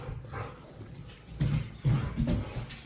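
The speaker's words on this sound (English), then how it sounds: "if you're hearing noises in the background, those are my dogs playing" Dogs playing in a room in the background, with scattered low whimpers, scuffles and short yips rising in a few bursts, fairly faint and intermittent.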